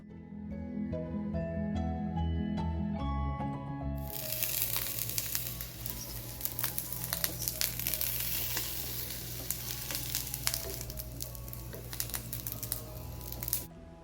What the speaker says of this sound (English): onto a pan add 1 teaspoon of coconut oil and then slightly fry this until it turns slightly golden in color